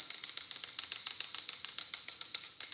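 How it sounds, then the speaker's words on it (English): A small handheld bell rung continuously over a quartz crystal grid, producing a bright, high sustained ringing with rapid repeated strikes, close and steady throughout with no talking. "I'm activating it with the bell too"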